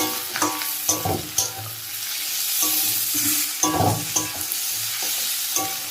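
Goat meat curry with chopped tomatoes sautéing in a hot pan, with steady close sizzling and frying hiss broken by repeated scraping and stirring strokes of a spatula against the pan.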